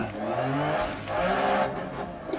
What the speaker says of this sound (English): I can't hear his voice over the roar of the engine